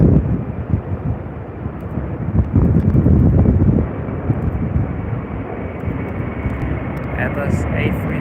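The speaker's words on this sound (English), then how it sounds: "A330 200. I believe this one is departing to Brisbane." An Airbus A330-200 departs for Brisbane with a rumbling jet roar that is strongest early on and then eases, mixed with wind buffeting on the microphone.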